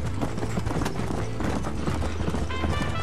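A horse gallops with rapid, rhythmic clip-clopping hooves in the Red Dead Redemption video game, loud and close throughout the short stretch with a brief snort or whinny.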